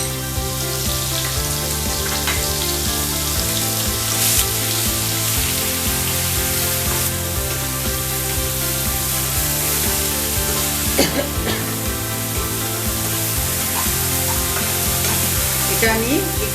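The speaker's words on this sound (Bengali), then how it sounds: "এটা আমি একটু জাস্ট ভাজা ভাজা মতো করে নেব।" A paste of garlic, onion and green chili fries in a pan with a loud, continuous sizzle and the occasional clatter of stirring. A steady hum runs underneath, and no one speaks.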